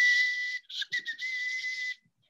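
A person whistles an imitation of a red-winged blackbird call, a bright sustained high tone broken by a few quick chirpy flutters in the middle, loud and close, then silence.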